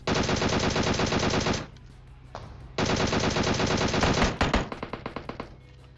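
Two long bursts of rapid automatic gunfire from a DP-28 light machine gun in PUBG Mobile, loud and close, separated by a short pause, ending in a few scattered single shots.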